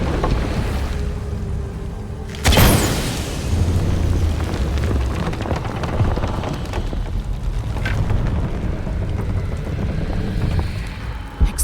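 Gas explodes in Shadow of the Tomb Raider with a single sudden boom, followed by a long rushing, rumbling roar of fire and debris that fades slowly.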